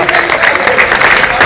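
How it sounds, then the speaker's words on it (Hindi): Audience at a mushaira in Banaras clapping, a dense continuous burst of applause from a crowd throughout, fairly loud. "तालियां बजा दी एक बार जोरदार शेर के लिए"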